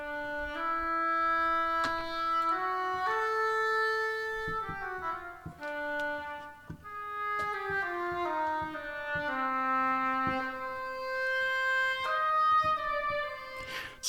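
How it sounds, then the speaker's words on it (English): A smooth, legato sampled oboe melody, from the Nucleus sample library, with connected notes gliding between pitches, accompanied by soft plucked tones, clear and unbroken. "So I threw in an oboe here."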